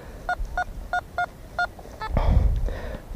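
A metal detector used while treasure hunting gives five short, evenly spaced electronic beeps at close range, followed by a burst of rustling handling noise.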